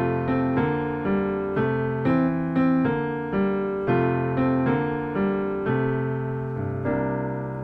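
Bossa nova style intro to the carol Angels We Have Heard On High, played as a steady sequence of sustained chords on a keyboard, a pedal bass moving to a suspended five chord, rhythmic and clear, with no voices.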